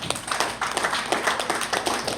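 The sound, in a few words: applause at a birthday celebration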